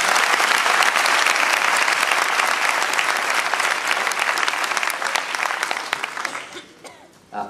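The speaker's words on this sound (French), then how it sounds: "on peut l'applaudir, c'est vrai." Applause from a town debate audience on municipal elections and the economy, dense and loud at first, then thinning and fading out near the end, with no clear talk over it.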